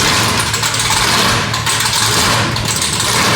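A 500 hp V8 car engine running loud and close, a thick rumbling roar with slight swells in intensity, filling the whole stretch without talk.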